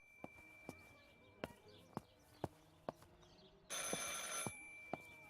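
A telephone rings in a quiet room, a sharp steady bell tone repeating in short bursts with a louder burst near the end, alongside faint knocking clicks.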